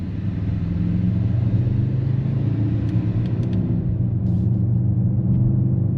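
A 2025 Mercedes-AMG GLE 63 S V8 SUV accelerates with a deep, continuous engine rumble that holds steady and loud from start to finish, with a few faint higher clicks.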